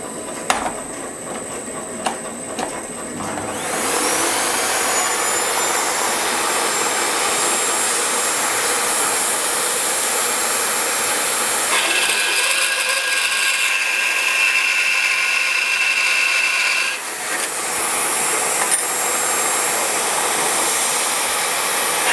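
Scheppach BASA3 band saw cutting steel by hand feed: after a few knocks the blade runs up into a loud, steady metallic screech and whir that shifts pitch mid-cut, then dips and continues.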